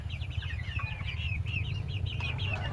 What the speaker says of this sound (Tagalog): Ito yung ating mga sisiw.